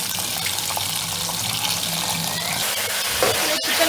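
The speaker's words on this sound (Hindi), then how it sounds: "पहले नूडल्स को छान के ठंडे पानी से अच्छी तरह धो लें।" Cold tap water runs steadily over boiled chow mein noodles being rinsed in a strainer, a constant close gush with a brief clatter near the end; no one speaks.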